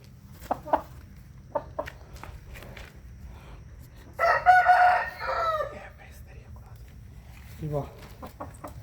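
A heavy 4.5 kg Peruvidai chicken gives a few sharp, scattered clucks, then a loud, drawn-out rooster crow rises in the middle, followed by a short trailing call, all over a low, quiet background hum.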